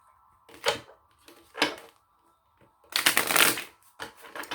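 Tarot cards are shuffled in several quick riffling bursts, the last one longest and loudest, with short quiet gaps between them.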